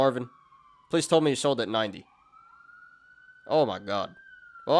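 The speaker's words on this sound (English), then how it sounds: "Sorry about the sirens, guys." An emergency vehicle siren wails steadily outside, a sustained tone heard faintly beneath someone talking and plainly in the pauses between his words.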